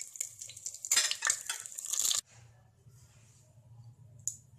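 Eggs frying in a pan for egg curry, a bright crackling sizzle with stirring scrapes for about two seconds, then cutting off to a quiet low hum with one faint click.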